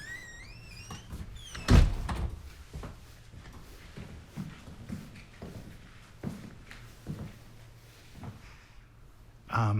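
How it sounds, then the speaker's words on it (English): A single solid thump of a door shutting stands out early, followed by quieter shuffling and movement in a room, with brief voices around it. "Close the door behind you."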